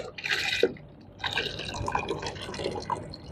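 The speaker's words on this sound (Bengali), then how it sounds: "এখন দুধগুলো আমরা ঢেলে দিচ্ছি" Fresh milk poured into a container for Pakistani-style mohabbat sharbat makes a close, gurgling fill sound in two bursts, with a short pause between them.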